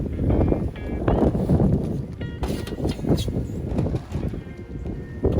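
Heavy wind buffets the microphone outdoors in a potato garden in continuous rumbling gusts, loud and close throughout, with no clear voices.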